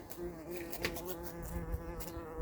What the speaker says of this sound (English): Ooh, there's a big bee. Let's try. Oh, smashing itself against the glass.